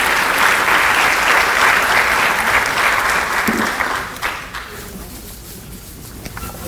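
Sustained applause from an audience at the Hopkins Raspberry Festival senior coronation, honoring the 2007-2008 Senior King; steady loud clapping for about four seconds, then thinning out and fading to scattered claps.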